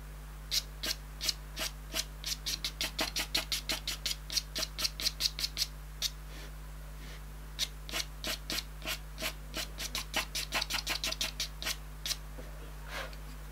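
A pastel pencil rubs and taps on paper in a close, quiet series of short rhythmic scratchy strokes, with a steady low hum underneath.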